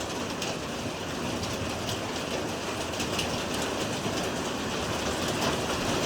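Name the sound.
hail hitting and bouncing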